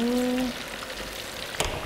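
Scored chicken breast deep-frying in a pan of hot oil, the pieces curling as they cook: a steady close hiss and fine crackle, with a brief tonal whine at the start and a single sharp pop near the end.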